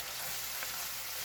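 Butter sizzles in a frying pan with mushrooms, onions, shallots, garlic and wine for a mushroom, leek and chicken risotto: a soft, steady hiss of frying that carries on evenly throughout, with no talk.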